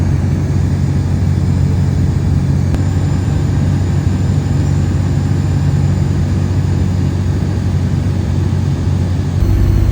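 A microlight aircraft descends over the dead side of a Scottish airfield to join the crosswind leg for runway 27, its engine a loud, steady, close drone that runs unbroken throughout with no voices.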